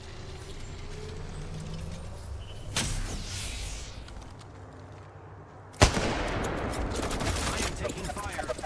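Incoming gunfire in a battle royale game, a sharp single crack followed later by a loud burst of rapid shots over steady background noise, with speech nearby.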